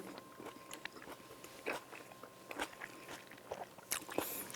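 Close, crisp bites and steady chewing of a snack of tomato, cheese and basil at a farm in Gochang, with soft crunches and squishes repeating irregularly and no talking.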